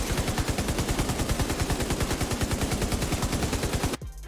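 Rapid sustained automatic fire from a light machine gun in The Division 2, a steady fast rhythm of close, loud shots running for about four seconds before stopping abruptly.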